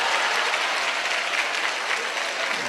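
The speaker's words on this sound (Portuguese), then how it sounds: "Salva de palmas para esse espírito evoluído aqui." Dense, loud applause from an audience at a Spiritist gathering in Juiz de Fora, continuous clapping filling the whole moment.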